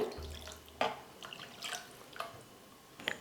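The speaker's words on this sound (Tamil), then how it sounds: "தயிர் சேர்த்ததுக்கப்புறமா தண்ணி கொஞ்சமாக சேர்த்துக்கிறேன்" Soft trickling and dripping of water poured into a chicken curry with yogurt, a brief pour with a few splashy drips, quiet and close.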